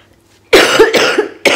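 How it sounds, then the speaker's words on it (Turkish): Three or four harsh, close coughs in quick succession after a brief quiet, loud and raspy. "çok fazla öksürüyorum"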